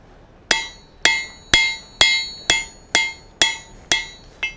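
Hot steel is struck on an anvil with a fuller in nine sharp, ringing metallic hammer blows at a steady, roughly half-second pace, close and clear with no talk.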